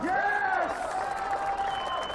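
Crowd applauding and cheering as a strongman enters at a strongman competition, a continuous roar under a commentator's voice, with rising whistles at the start.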